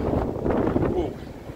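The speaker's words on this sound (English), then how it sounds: "It's still windy down here" Wind gusting across a stormy, flooded beach, a steady low roar buffeting the microphone throughout, loud and close, with a person talking over it.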